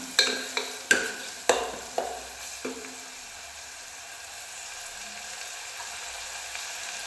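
Onions being sautéed with cumin in hot oil in a pan for a protein-rich gravy: a steady sizzle and frying hiss, with several sharp stirring knocks against the pan early on, then continuous frying.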